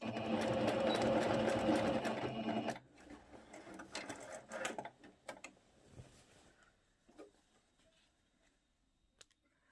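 Sewing machine stitching the waistband hem of a two-piece elastic-waist skirt: a loud, fast run of stitching that stops abruptly, followed by quieter scattered clicks and handling of fabric.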